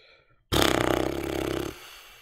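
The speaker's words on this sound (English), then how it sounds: "sorry about that noise, that horse noise" A horse noise from the video game Cube World: a sudden, loud, raspy, buzzing bray that breaks out of near silence and holds for about a second before cutting off.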